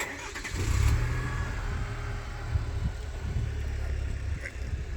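A pickup truck engine rumbles steadily nearby, a low continuous drone that swells briefly early on and then holds at an even level, with no clear talk over it.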